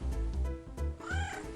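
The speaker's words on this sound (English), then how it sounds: "Where's that meowing coming from?" A cat meows in a game setting, a short rising-falling cry over a busy, loud musical background.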